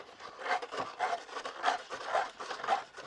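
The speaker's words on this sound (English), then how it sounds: "Hit it with some sandpaper," Sandpaper scrubs the corroded battery contacts of a classic Kongman handheld game, a close, steady run of rough rasping strokes repeating about twice a second with no talking.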